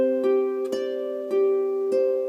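Double-strung harp notes plucked with the thumb alternating between the 8th and 9th, a 1-5-8 pattern: about five clear, ringing plucks at a gentle, even pace, each sustaining into the next.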